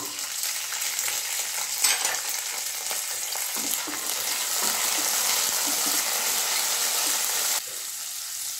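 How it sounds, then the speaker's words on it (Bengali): Fresh shelled winter green peas tipped into a hot oiled pan while cooking a radish dish, a steady loud sizzle and frying hiss with a stirring scrape, dropping in level near the end. "শীতকালের টাটকা কড়াইশুঁটি, সেটাও দিয়ে দিচ্ছি"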